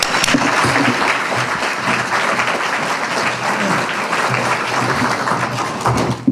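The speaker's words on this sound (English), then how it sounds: "Give him a round of applause," A room full of diners at a Minnesota Somali Republican dinner applauds a speaker, loud, dense and continuous clapping filling the clip, with a murmur of crowd beneath and a thud at the very end.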